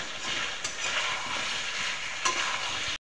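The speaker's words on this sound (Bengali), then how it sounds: "ভালোভাবে কষাচ্ছি মাংসটা, সুন্দরভাবে" Chicken meat is sautéed in a pan with a continuous close sizzle, broken by an occasional sharp scrape or knock of the spatula while it is stirred. The sound stops abruptly at the end.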